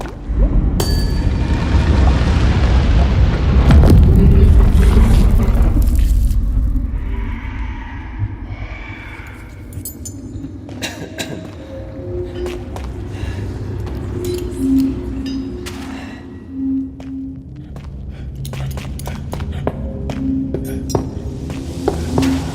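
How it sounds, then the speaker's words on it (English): Distorted, crunchy explosions boom and rumble, with crackling debris and clinking fragments scattered between the blasts. "Distorted explosions rock the area."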